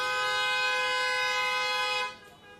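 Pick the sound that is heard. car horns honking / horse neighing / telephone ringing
car horns honking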